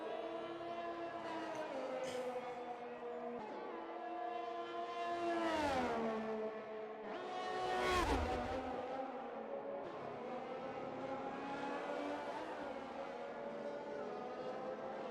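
F1 2021 race car engines in the video game at Silverstone, with high whining engine tones rising and falling as the cars shift gears and accelerate. Two louder passes stand out against a steady engine drone.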